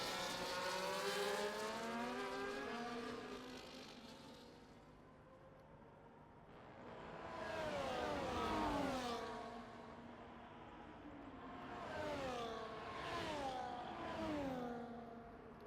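Race cars in an F1-style racing video game accelerate on the final lap, with engine notes rising and shifting in waves as several cars pass, all under a steady whir.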